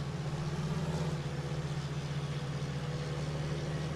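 John Deere 6030 tractor engine in Farming Simulator 19, a steady low idling drone that holds close and even throughout, its revs settled low rather than climbing.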